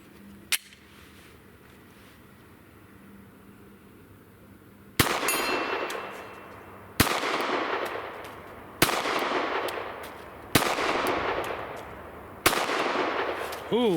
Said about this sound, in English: So that was a Glock 19.